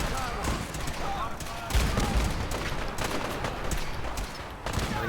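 Repeated gunfire from the player's weapon in Fallout 4, dense bursts of shots mixed with combat noise, loud and continuous with slight surges throughout.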